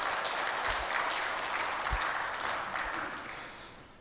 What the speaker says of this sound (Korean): 우리 박수로 영광을 드리시죠